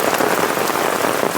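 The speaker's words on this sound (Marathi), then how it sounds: "एवढा पाऊस पडतो आमच्याकडं." Heavy monsoon rain pours down in rural Konkan, a dense, steady roar of drops hammering surfaces, loud and continuous with no voices.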